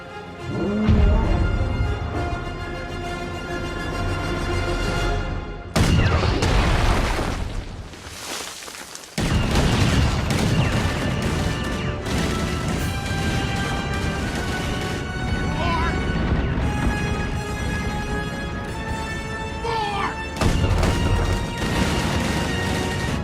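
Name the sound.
many guns firing in Star Wars The Last Jedi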